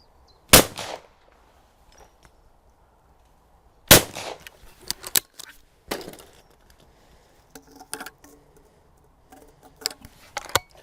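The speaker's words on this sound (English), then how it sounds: "I'm now going to shoot 5 pairs with each one, and I'm going to tell you how they handle and how they shoot." Browning and Beretta shotguns loaded with Fiocchi 24 gram cartridges fire at clay targets, giving a few sharp, loud reports spaced irregularly, some in quick pairs, with quieter rustling and handling noise between shots.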